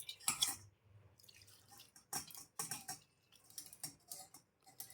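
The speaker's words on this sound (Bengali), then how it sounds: "তিন চারবার জল পাল্টে পাল্টে আমি এটাকে ধুয়ে নিচ্ছি" Flattened rice (chira) being washed by hand in water: intermittent splashes and sloshing in short bursts, close and fairly quiet, with gaps of near silence between.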